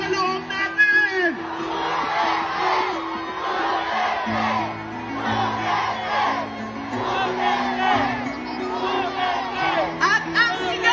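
A large crowd in the streets of Davao City marches to celebrate Rodrigo Duterte's 80th birthday, shouting and cheering continuously in a loud, dense roar with scattered whoops and chanting voices.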